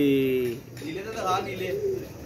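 Blue pigeons cooing, a pair kept by a fancier, with soft throaty coos close by, overlapping someone speaking nearby.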